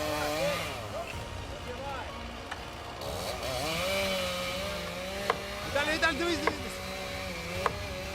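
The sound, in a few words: chainsaw cutting a tree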